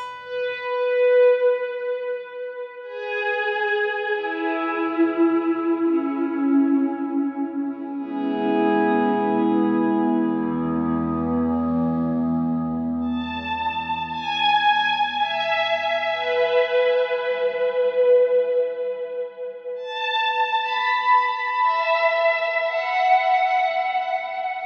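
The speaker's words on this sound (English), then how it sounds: "if you put them all on together, you just get kind of this really over the top ambient sound" An electric guitar runs through an Axe-Fx II with all its ambient effects stacked at once, producing lush, washed-out swells of echoing, reverberant notes that bloom and fade across a long stretch with no talking.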